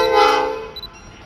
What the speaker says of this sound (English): Now as the train comes forward,